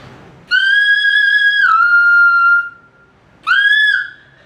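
A singer voicing a high whistle tone, a pure piercing note held for about two seconds that dips in pitch, then a shorter second note after a pause.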